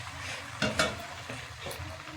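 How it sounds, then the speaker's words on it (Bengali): Chicken frying and being stirred in a pan for a Bengali home-style curry, a soft continuous sizzle with a few scraping stirs, fairly quiet and close, with no voices. "চিকেন কষিয়ে নিয়েছি সুন্দর করে, সুন্দর হয়ে গেছে, সুন্দরভাবে কষিয়ে নিয়েছি,"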